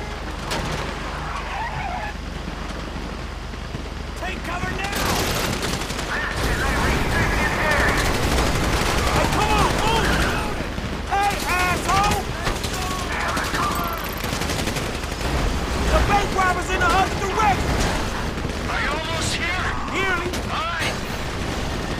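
Gunfire in the video game Grand Theft Auto 5 during a bank-heist shootout: sustained loud bursts of automatic weapons and shots under game noise, vehicles and shouting voices throughout.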